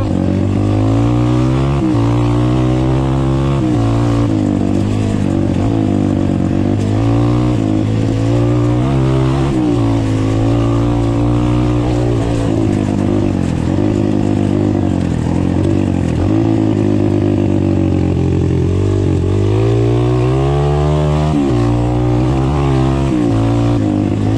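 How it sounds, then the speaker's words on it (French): An Apollo Sano DMZ 250 dirt bike engine runs loudly and continuously, its pitch rising and falling as the throttle is revved again and again. "je vous laisse prendre le son de la moto"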